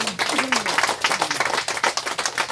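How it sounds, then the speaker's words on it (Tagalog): A prayer meeting congregation claps in brisk, rapid unison, dense close bursts of handclaps with a voice speaking over them. "Yung palakpak ng mga anak ng El Shaddai"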